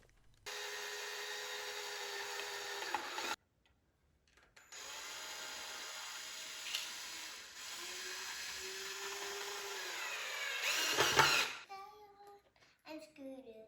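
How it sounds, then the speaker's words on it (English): A power drill drives screws into a hinge while building a wooden present ladder at a kids' workshop, with several short whirring bursts separated by pauses, close and fairly loud. "it's easier to drive screws into the holes of the hinge"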